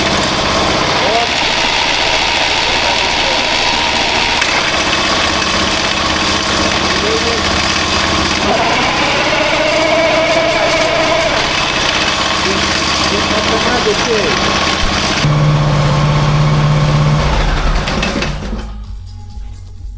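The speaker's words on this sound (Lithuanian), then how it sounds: "Dabar variklis tiesiog suka variatorių, kad spausti važiuoti į priekį." Husqvarna TS138 lawn tractor engine running steadily as it turns the variator, a loud close droning hum with mechanical whine and vibration that continues unbroken until it fades near the end, with a person speaking over it.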